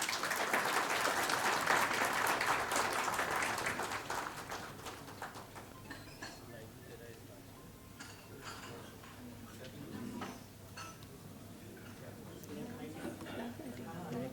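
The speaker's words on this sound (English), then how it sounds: "Can I please have a huge round of applause?" At an electric mobility conference in India, an audience claps loudly at first, then the applause thins into scattered, fading claps over several seconds.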